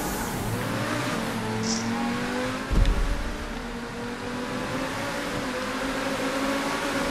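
Car engine in GTA 5 during a racing lobby, a steady droning hum with a brief louder burst near the middle, heard close and without talk.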